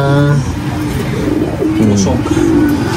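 Pigeons cooing close by in a loft: repeated low, throaty rolling coos overlapping one another against a steady background hiss, with someone talking over them.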